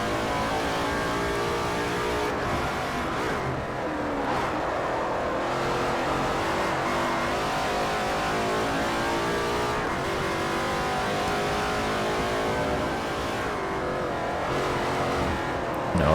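Race cars in Forza Motorsport 4 rev and roar continuously through a GT2 multi-class race, engines rising and falling with shifts and the odd tire squeal, loud and steady without talk.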